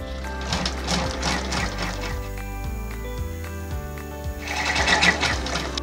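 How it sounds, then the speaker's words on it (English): Embroidery machine running a tack down stitch through fabric and batting, a steady fast mechanical stitching rhythm, close and continuous, swelling slightly near the end. "I'm going to tape it into place, and I'm going to run my tack down stitch."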